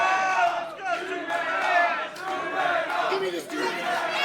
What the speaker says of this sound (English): You hear the crowd solidly behind the champ.